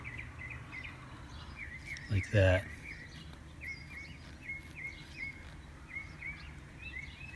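Small birds chirp outdoors in short, repeated high calls scattered across the whole stretch, faint and steady over a low background hum, with a person talking nearby and a brief louder knock partway through.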